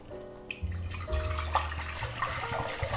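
Water pours into an iron pot set up for boiling meat, a close, steady splashing stream running for about three seconds with no talk.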